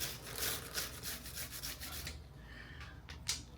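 A brush scrubs a motorcycle chain in quick, repeated raspy strokes, close and fairly faint, with the scrubbing thinning out toward the end.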